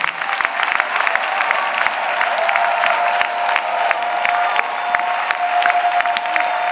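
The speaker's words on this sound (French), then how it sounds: "Acclamons. Let us clap." A church congregation at a prayer and intercession meeting clapping together, loud dense rhythmic applause from many hands filling the room, steady throughout with a faint murmur of voices underneath.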